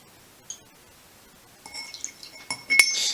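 A spoon stirs a teaspoon of sugar into a tablespoon of room-temperature water in a glass for an 1840-style mint julep, giving a brief clink, then a run of light scraping and clinking that builds to sharper taps near the end.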